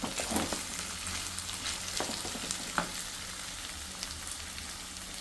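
Fried potato pieces with curry leaves being stirred in a pan: a low steady sizzle under light, scattered scrapes and taps of a spatula, close and fairly quiet.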